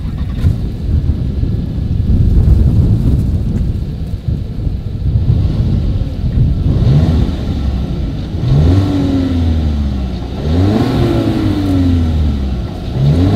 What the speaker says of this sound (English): Here is the 2020 Volkswagen Tiguan exhaust clip.